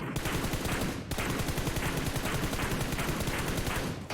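Gunfire in the mobile battle royale game PUBG Mobile, a dense, loud, continuous burst of rapid automatic shots lasting several seconds, with a brief break near the start and no speech over it.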